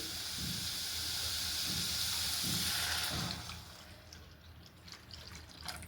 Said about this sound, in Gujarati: હવે અંદર નાખીશું દૂધ.